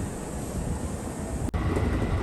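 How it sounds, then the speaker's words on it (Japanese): A Kintetsu train bound for Cosmosquare comes in at night with a loud, close, steady roar and hiss that drops out for an instant, then carries on. "さあ、列車がやってきました。"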